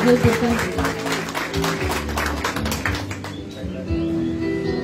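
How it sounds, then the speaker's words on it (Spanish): Clapping from the audience at a high school graduation ceremony, steady and moderately loud, tapering off near the end while a voice speaks over a sound system. "Ahora ya los aplausos y los regalos"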